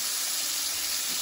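Battered shrimp fry in hot oil for fish and chips, giving a loud, continuous close-up sizzle and crackle that stays steady, with no talking.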